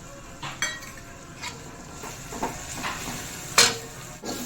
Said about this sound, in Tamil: இப்போ இந்த தூளை போட்டு ஒரு வதக்கு வதக்கிக்கலாம்.